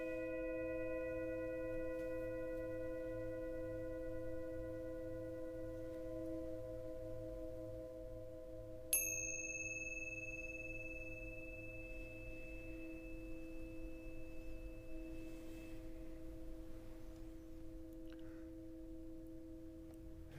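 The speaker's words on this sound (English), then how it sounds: "Tibetan bowl." A Tibetan singing bowl hums quietly with several layered, sustained tones, is struck again partway through for a bright fresh ring, then fades slowly with no talking.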